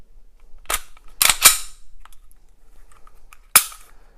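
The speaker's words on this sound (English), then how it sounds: "So let's put the gun back together and see what it looks like as a complete gun." Sharp metallic clicks and snaps from reassembling a Smith and Wesson SD9VE pistol fitted with grips: a single click, then a quick pair of louder snaps, and one more crisp snap a couple of seconds later, close up with no talking.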